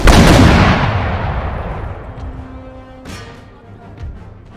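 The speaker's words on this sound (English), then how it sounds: "You men, fire your mortars!" Mortar artillery fire in the video game Empire Total War: a loud booming blast that decays slowly, followed by a second sharper report around the three-second mark, with no voices.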